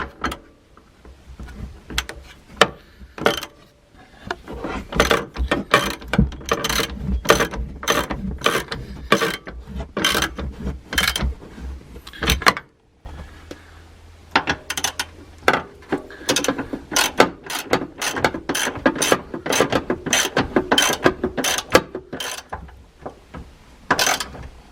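A ratchet tightens coilover bolts on a Jeep Patriot, with rapid bursts of metallic clicking in quick uneven runs, loud and close, separated by brief pauses and occasional clunks.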